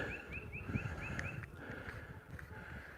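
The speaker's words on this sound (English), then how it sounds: "Now that's one bird I don't like hearing," Geese near a pond give a short series of honking calls in quick succession, then a few more scattered calls, moderately distant, over low background rumble.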